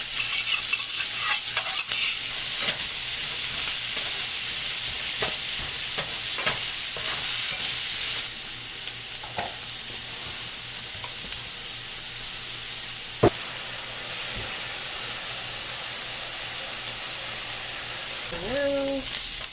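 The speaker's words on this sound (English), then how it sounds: "So now I'm going to add in the kimchi, onion, and garlic." Kimchi, onion and garlic fry in a hot pan with a steady, loud sizzle and hiss, stirred now and then with a few scraping knocks, and the frying eases slightly partway through.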